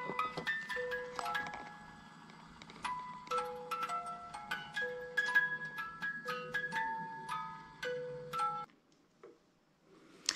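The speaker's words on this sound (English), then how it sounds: "They had these musical tins, which have like little sugar cookies on the inside." A musical Christmas cookie tin holding little sugar cookies plays a tinkling electronic melody of bright, steady notes for about nine seconds, then stops, leaving faint handling noise.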